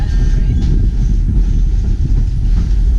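A New Hope Ivyland Railroad train rolls along the tracks near Lahaska, a constant close rumble with light clickety-clack from the wheels, no talking.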